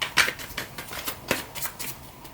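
Tarot cards are shuffled by hand in a few close, soft riffling bursts with a crisp snap or two, quiet and brief with no talking over them.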